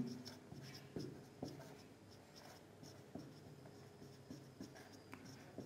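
Pen writing on paper during a math lesson, quiet scratchy strokes with small taps, continuous and close but faint, with no talking.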